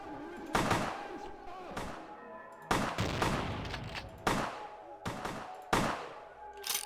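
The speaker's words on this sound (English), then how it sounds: "Oh god, they got shotguns!" Enemy shotguns boom in Vampire: The Masquerade – Bloodlines, a series of loud, separate blasts with long echoing tails, roughly six shots spaced a second or so apart.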